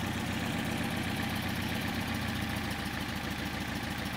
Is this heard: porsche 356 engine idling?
yes